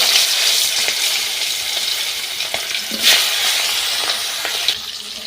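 Pangas tengra fish, rubbed with salt and turmeric, frying in oil in a wok, producing a loud, close, steady sizzling hiss with bursts of spattering and a few stirring clicks.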